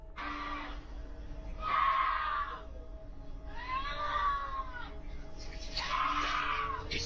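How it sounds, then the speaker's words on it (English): A woman screams in terror off camera, three long, wavering cries separated by short gaps, distant and echoing over a faint hum of background noise. "Screams of terror echoed, coming from a woman off camera"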